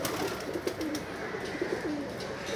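Teddy pigeons cooing in repeated soft, low rolling phrases over a steady background hiss, fairly close and without speech.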